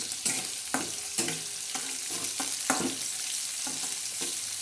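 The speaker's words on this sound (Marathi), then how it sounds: "ह्या बघा आपल्या मिरच्या कशा तरतड आणि मस्तपैकी अशा तळतात" Green chillies fry in hot oil with salt, a continuous sizzle broken by repeated sharp scrapes of a spoon against the pan, close and fairly loud, with no talk.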